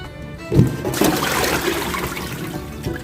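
Running water rinses catfish in a kitchen, a steady gushing splash with a few louder sloshes early on, close and continuous with no talking.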